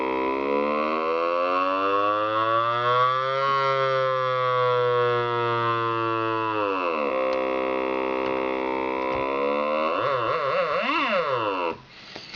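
Monophonic talkbox synth line on a Yamaha DX100 with portamento time at maximum, thick harmonic tones sliding slowly and smoothly between pitches, then wavering, warbling glides near the end, loud and steady with no talking.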